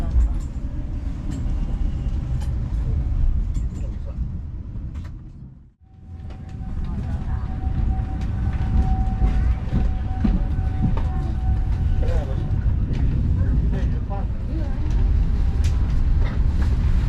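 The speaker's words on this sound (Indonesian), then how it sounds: "Beberapa saat lagi kereta api Bengawan akan tiba di stasiun Bekasi." The Bengawan passenger train pulls into Bekasi station with a heavy low rumble and rolling wheel noise, briefly dipping before the loud rumble returns, a long steady tone running through it along with faint clicks and background voices.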